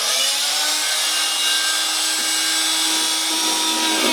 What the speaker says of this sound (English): I'm using this multi-tool with an oscillating blade at the end which sort of cuts through the plywood like butter